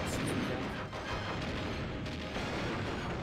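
Gunfire from the video game Donkey Kong 64 sounds as faint, repeated booming shots and mechanical clatter under a dense, noisy game soundtrack.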